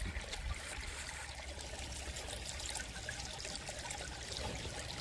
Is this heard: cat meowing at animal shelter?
no